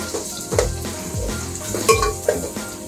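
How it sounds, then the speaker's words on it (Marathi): Chopped onion frying in oil in a pan for chicken biryani, with steady sizzling and several scraping stirs of a spoon against the pan, close and fairly loud, no talking. "हा कांदा आपण ना चांगला तेलात परतून घेऊया"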